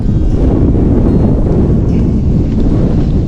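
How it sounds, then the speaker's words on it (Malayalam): Cold wind blows hard across the microphone outdoors in Kerala, making a loud, steady roar that never lets up, with no speech. "നല്ല തണുത്ത കാറ്റാണ്, നല്ല തണുത്ത കാറ്റ്."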